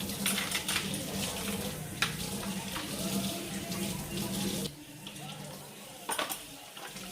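Baby bottles are washed under running water in a kitchen sink, with a steady tap stream that briefly drops away before splashes and light clinks return, close to the microphone.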